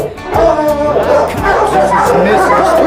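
Several dogs bark and yip together at an animal shelter, a loud, busy chorus with overlapping barks and whimpers while people talk nearby.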